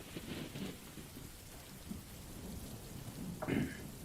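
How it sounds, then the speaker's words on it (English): A recorded winter rainstorm with steady rain and thunder: a soft continuous wash of falling rain with a short, sharper crack near the end, fairly quiet and without any voices. "I'm listening to the rain while outside it's minus 15 Celsius"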